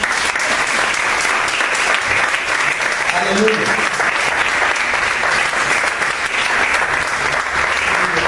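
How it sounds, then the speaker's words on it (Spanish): A church congregation applauds steadily and loudly throughout, dense clapping with a few voices calling out underneath. "Un aplauso al Señor, hermano."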